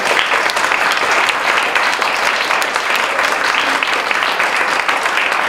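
Dense, steady audience applause fills a hall at the Salone del Libro book fair in Turin, a continuous wash of clapping hands throughout with no pauses.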